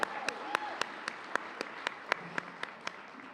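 At a Black History Month gala, someone claps slowly and rhythmically, sharp single claps about every quarter second, prompting the audience, with a faint crowd applause and a brief voice underneath.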